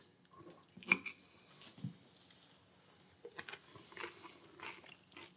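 Someone chews a panzanella salad of crispy bread soaked in dressing with vegetables, quiet close-up crunches and wet squishy bites in an irregular rhythm, no talking.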